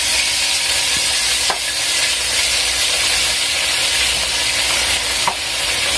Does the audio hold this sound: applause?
no